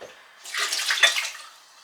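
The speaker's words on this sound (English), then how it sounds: "I'm going to give it a quick rinse." Water splashes briefly into a glass meal prep container from a tap as it is rinsed out, a short close gush lasting about a second, alone with no talk.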